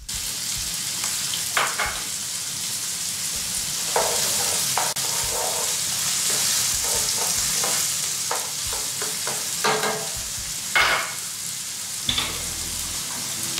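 Carrots sizzle and crackle in a hot pan as a teriyaki dish is stir-fried, with bursts of stirring and scraping over a steady frying hiss and no talking.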